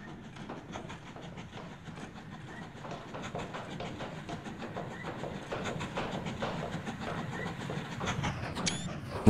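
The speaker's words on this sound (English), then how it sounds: "here comes our train" A train pulls into a station in the Mashinky railway-building game, a steady rhythmic clickety-clack of wagons on rails building slowly louder over about nine seconds, with no talking.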